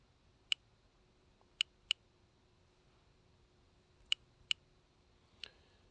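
Isolated key presses on a misbehaving computer keyboard: about half a dozen sharp, faint clicks spaced irregularly over several seconds in a quiet room, with no talking.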